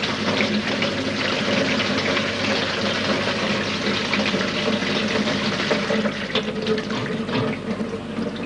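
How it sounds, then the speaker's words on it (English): Water gushes steadily from a cold water tap, a dense continuous rush and splash that stays loud and unbroken throughout, with no voices over it. "Can you press down on the cold water tap as firmly as possible?"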